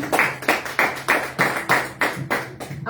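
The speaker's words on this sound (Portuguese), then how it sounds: "Aplauda o Senhor" At a year-end 2024 church service, the congregation claps in rhythmic unison, about nine sharp, close, evenly spaced claps in three seconds, each ringing briefly in the room, with no talk over them.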